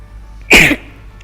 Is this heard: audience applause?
no